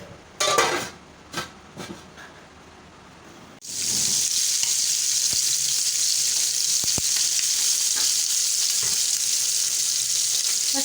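Chicken dropped into a hot grill pan, starting after some clinks and knocks with a sudden loud sizzle that holds steady to the end, with faint occasional taps of a utensil and no talking.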